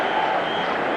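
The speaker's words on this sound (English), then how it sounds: "Hear the crowd." A football stadium crowd at a Bengals versus 49ers game roars in a steady, dense wash of cheering and noise, with no single voice standing out.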